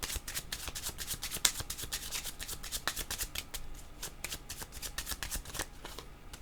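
Tarot cards shuffled close by, a quick, continuous riffling and rubbing of cards with rapid rhythmic flicks, fairly quiet and alone without speech.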